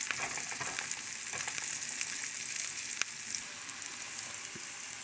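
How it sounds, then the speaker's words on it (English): Onions frying in garlic and herb butter in a pan, with a steady close crackling sizzle, soft stirring scrapes now and then and one sharper pop, and no voices. "those onions cooked with the garlic and butter, herb butter, smelling real good right now"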